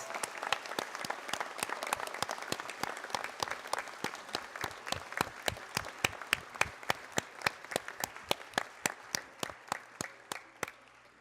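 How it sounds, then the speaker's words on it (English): Audience applauding PhD graduates at a university commencement ceremony, a sustained wash of many hands clapping in a large hall that thins toward the end into a few distinct, spaced claps. "we've got to stop, we have to applaud"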